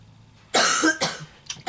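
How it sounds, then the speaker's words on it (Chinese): A person coughs near the microphone, one harsh burst followed by a few shorter coughs with brief quiet between them. "老师，我咳嗽。"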